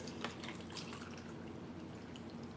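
Lemon lime soda poured over marinating fruit for sangria, a faint, steady stream of liquid with light splashing and fizz lasting a few seconds, with no talking.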